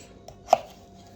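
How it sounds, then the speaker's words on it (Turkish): A knife chops potatoes into small sauté-style pieces on a board in a kitchen, giving one clear, close tap after a faint earlier one, in an otherwise quiet setting. "Böyle sote gibi patateslerimizi doğruyoruz."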